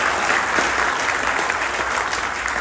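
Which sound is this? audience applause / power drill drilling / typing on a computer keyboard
audience applause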